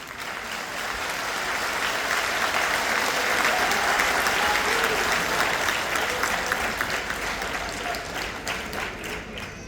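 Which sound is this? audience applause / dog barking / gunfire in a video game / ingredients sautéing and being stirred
audience applause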